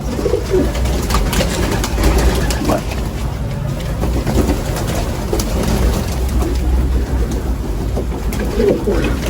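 Pigeons cooing steadily in an outdoor loft right after their release, the soft calls repeating over a dense, constant wash of background noise with no talking.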